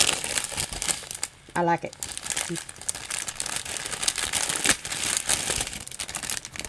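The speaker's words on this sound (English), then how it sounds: "because some people can't stand crinkling" Plastic packaging from a budget two-pack diamond painting kit crinkles and rustles close by in bursts, while a person briefly speaks partway through.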